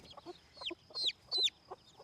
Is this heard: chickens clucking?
yes